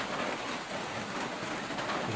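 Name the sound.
rain getting heavier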